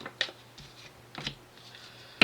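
Tarot cards are shuffled in short bursts: a few quiet riffling flicks spaced apart, then a sharper snap at the end, close by in an otherwise quiet room.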